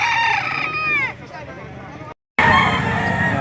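A rooster crows loudly at a chicken auction market in Lipa, Batangas, one long call lasting about a second, followed by market chatter, a brief dropout, then louder crowd noise and voices.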